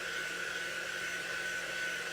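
A blow dryer blows air in a steady, loud, continuous whoosh with a constant high whine, running alone without pause throughout.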